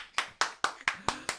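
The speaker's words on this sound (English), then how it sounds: "Let's clap." Six sharp, evenly spaced hand claps, close and distinct, in a steady rhythm during a morning radio show, with no voices over them.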